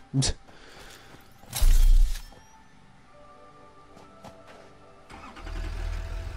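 A video-game vehicle engine starts with a short burst, then gives a louder roaring rev, drops to a quiet idle with faint clicks, and rises again into a sustained driving rumble.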